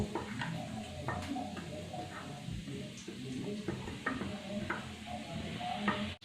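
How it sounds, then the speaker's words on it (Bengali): Garam masala being stirred into potatoes frying in a pan for a dry aloo sabji, with a steady oily sizzle under repeated scraping and clinking stirs of a utensil against the pan. "আর দেব অল্প করে গরম মশলা। এই মশলাটাকে আমি খুব ভালোভাবে মিশিয়ে নেব।"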